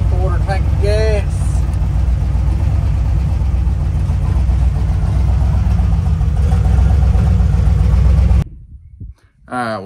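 A 1964 Ford F-350 pickup engine idles with a steady low rumble close by, and a voice is heard briefly at the start. The sound cuts off abruptly near the end.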